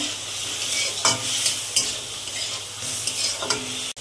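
Elephant foot yam stalks with a little water fry in a pan for a prawn curry, a dense sizzle with a few sharp stirring scrapes and a final clank, heard up close with no talking.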